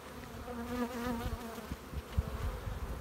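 Honeybees buzz steadily around a weak hive being condensed into a double nuc, a dense, wavering drone close by with soft thumps and handling noises under it.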